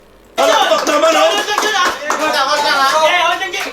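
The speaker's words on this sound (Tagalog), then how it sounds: "Palakpak naman" Close, lively clapping from a crowd at an arm wrestling event breaks out abruptly after a short quiet moment and carries on for several seconds, with some chuckling and voices mixed in.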